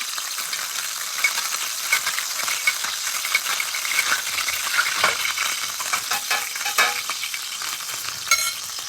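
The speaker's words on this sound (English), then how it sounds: "You see that sauteing is about that because the oil is actually jumping out of the pan a little bit." Chicken sautéing in hot oil in a pan, with oil splattering out. A steady, dense crackling sizzle carries fine pops and spits throughout, and a few sharper snaps near the end.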